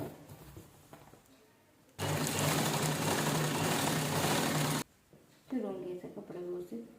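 A sewing machine stitching the folded edge of a ready-made mat seat cover runs in one loud, steady burst of about three seconds, with someone speaking before and after it.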